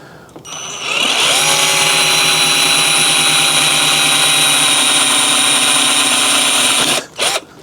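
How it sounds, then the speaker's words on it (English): A power drill bores through very hard plastic in one long, steady, loud high-pitched whine lasting several seconds, starting up and then cutting off abruptly near the end. "And then we want to drill through there."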